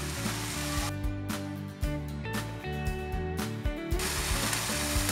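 Beef steak and bacon frying on a griddle for a Uruguayan chivito sandwich, a steady hiss of sizzling fat running under louder background music throughout.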